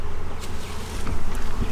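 Italian honeybees buzzing at a hive, a dense, loud, close hum that carries on without a break through the short moment, no voices present.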